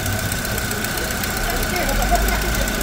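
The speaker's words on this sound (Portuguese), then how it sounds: "Pedi para que um amigo desse partida para vocês escutarem aqui" A used 2016 Chevrolet Cobalt at a car fair runs with a steady, rough engine drone and a faint knocking rumble.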